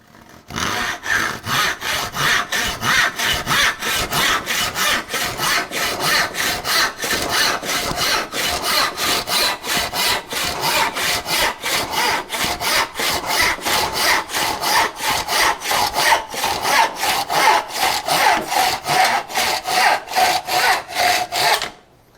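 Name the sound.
diamond hone rubbed along hand saw blade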